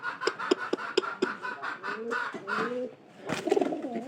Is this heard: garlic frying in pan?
no